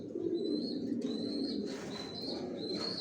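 Pigeons kept in a loft give soft, repeated coos and chirps, fairly quiet and near, over a low background hum.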